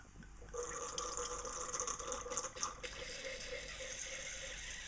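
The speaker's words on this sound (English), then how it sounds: "the old aerator doing its thing" A wine aerator pours a 2005 Genders McLaren Park Shiraz: a steady, close liquid trickle and gurgle that swells at about half a second and runs continuously, with bubbly splashes midway before settling into an even flow.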